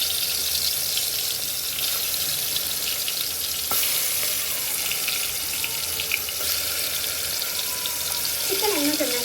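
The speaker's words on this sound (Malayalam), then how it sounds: "ഇത് ചൂടാകുമ്പോൾ നമുക്ക് ഇതിലേക്ക് ഓയിൽ ഒഴിച്ച് കൊടുക്കാം" Oil in a heated pan sizzles with a continuous, close frying hiss, steady in loudness, with a couple of faint clinks along the way.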